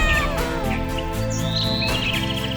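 A pet cat meows in a children's fairy tale, giving several high, drawn-out cries over a steady musical backing.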